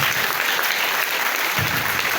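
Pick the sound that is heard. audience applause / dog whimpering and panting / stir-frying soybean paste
audience applause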